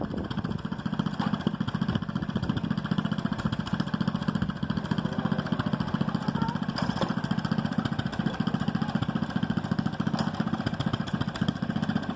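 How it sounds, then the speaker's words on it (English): A rebuilt motor runs steadily with an even, rapid mechanical chugging and a faint clatter, holding a constant nearby level throughout with no voices. "Sounds like a smooth running motor."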